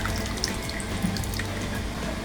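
Heated water, about one to one and a half glasses, is poured into a masala mixture for a patvadi rassa gravy, making a steady, continuous splashing pour close by with no talking.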